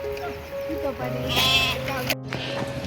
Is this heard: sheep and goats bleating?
yes